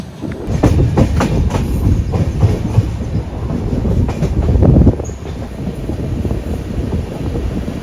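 A Durunto Express from Ernakulam to Mumbai LTT, hauled by a single WAG7 locomotive, heard from on board as a loud steady rumble with rhythmic clickety-clack of the wheels and buffeting wind noise, and no talk.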